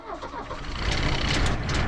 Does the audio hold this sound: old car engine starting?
yes